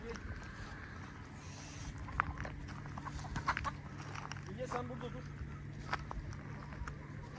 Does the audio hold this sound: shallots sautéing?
no